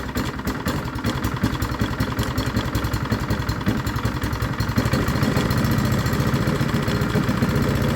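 A petrol engine on a piece of lawn care equipment runs after a first-pull start, idling with a close, rapid mechanical rumble that holds steady and grows slightly louder and fuller partway through.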